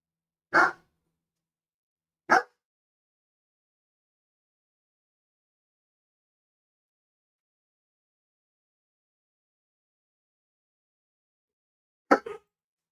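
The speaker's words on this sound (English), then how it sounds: "they're not going to stop barking" Dogs give three short, sharp barks, two close together near the start and one more after a long silence, fairly near and alone.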